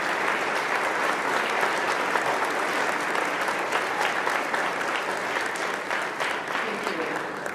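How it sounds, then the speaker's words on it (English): An audience at an eighth grade middle school graduation ceremony applauds parents and teachers, a full, continuous roar of clapping that holds steady throughout. "I want you to please give your parents a round of applause, as long as your teachers, for their support and love"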